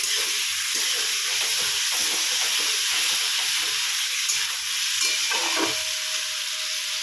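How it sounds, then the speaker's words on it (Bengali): Cumin and ground ginger paste fries in a pan, a constant steady hiss of sizzling oil with a few faint stirring clicks and scrapes near the end. "শুধু যাবে জিরা আর আদা বাটা ভালো করে মশলাটাকে কষিয়ে নেব"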